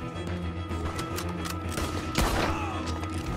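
Gunfire rattles in the video game Red Dead Redemption 2, with a rapid volley of shots and a louder blast near the end over a steady background rumble.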